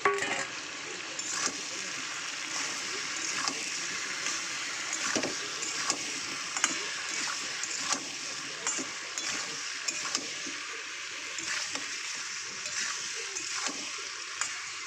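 Salted, turmeric-coated prawns go into potatoes cooking in a pan, giving a steady soft sizzle of frying with intermittent scraping and stirring clicks, close and fairly quiet.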